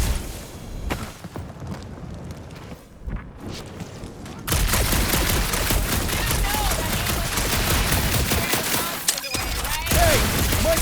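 Guardians of the Galaxy gameplay in a dark area: sparse gunshots and scattered impacts give way to a loud, continuous barrage of rapid gunfire and blasts that carries on for several seconds.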